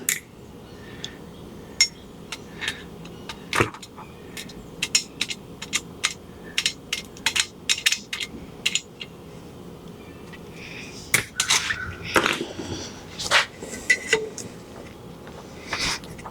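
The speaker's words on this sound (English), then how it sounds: "And then you can pop the retainers out." Metal valve spring retainers being popped out of an AMC 304 V8 cylinder head from a 1976 Jeep CJ-5, a string of sharp clinks and ticks at irregular intervals, close and fairly quiet.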